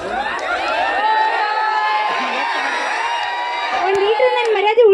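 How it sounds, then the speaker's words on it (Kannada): Men in an audience at a live Dharwad-style comedy show whoop and cheer loudly, a sustained crowd roar with high whistling yells rising near the end. "ನಿಮ್ಮ ಗಂಡಸರು ಯಾಕೆ ಕೇಕೆ ಹೊಡ್ಯಾತಾರ"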